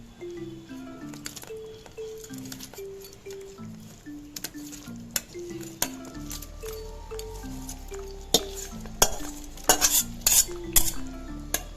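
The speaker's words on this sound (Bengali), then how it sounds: "এবার দেব হচ্ছে চিকেন গুলো" Chicken pieces go into a pan of sauce and water for chilli chicken and are stirred, giving scraping, squishy stirring and light clinks of a utensil against the pan, with a steady melody playing throughout.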